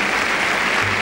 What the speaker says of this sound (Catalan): Els aplaudiments de la plaça de la Vila a la colla local